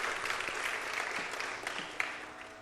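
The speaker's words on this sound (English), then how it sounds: "A big round of applause" Audience applause following a Bharatanatyam dance item at an arangetram, a steady dense wash of many hands clapping at moderate level throughout, with no voices standing out.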